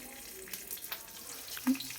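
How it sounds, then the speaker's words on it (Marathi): Salt-stuffed green chillies, slit down the middle, sizzle faintly on a hot griddle pan, a soft, steady frying hiss with a slightly louder crackle near the end. "तव्यावर मिरच्या टाकून"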